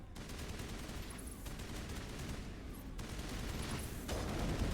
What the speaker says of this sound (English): Gears, you are shooting into a wall.